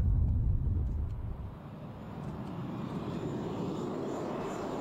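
Korean War-era jet fighters, American F-86 Sabres and Russian-built MiG-15 single-engine swept-wing jets, rumble overhead in a steady engine roar that swells early then settles into a sustained, moderately distant drone.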